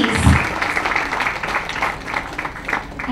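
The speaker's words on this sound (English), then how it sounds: "Please, a huge round of applause for her, please." Audience applause at a book launch event, moderately loud and continuous with dense clapping and some crowd noise, after a brief low thump at the start.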